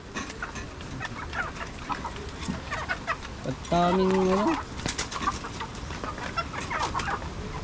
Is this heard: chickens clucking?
yes